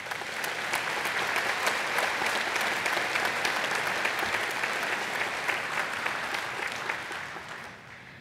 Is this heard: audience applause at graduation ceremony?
yes